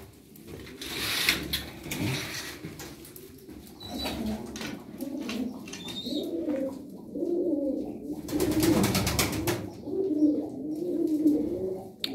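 Pigeons coo in a loft, with a steady run of soft, overlapping calls close by and a few brief rustles and wing flaps between them.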